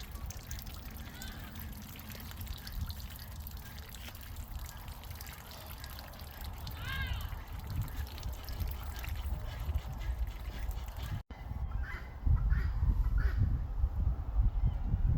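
Ducks splash and dabble in spilled water outdoors on a cold day, with a continuous wet sloshing and trickling and a few soft quacks and honks partway through.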